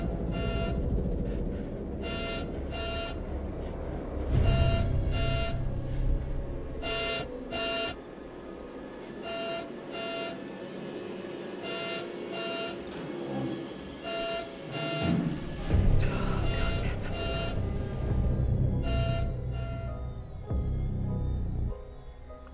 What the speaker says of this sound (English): How come there's an alarm?